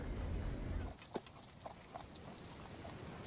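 A platoon of light cavalry riding on horseback, hooves clip-clopping in a quiet, uneven patter at a distance, with a few sharper hoof strikes standing out over a low rumbling background.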